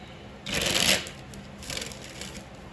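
Tarot cards are shuffled in two short riffling bursts, the first louder and longer, close and crisp over a quiet indoor background.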